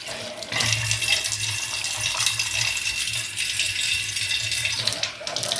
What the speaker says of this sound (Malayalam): ഇനി ഞാനിതിൽ വെള്ളം ഒഴിച്ച് കാണിച്ചു തരാം.